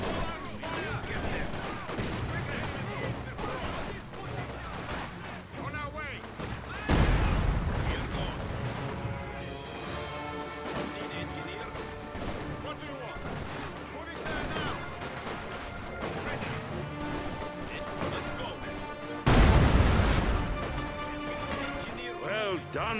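Gunfire and explosions in a war video game, with dense, continuous rattling shots and two heavy booming blasts, one early and one near the end, while game voices talk over the battle.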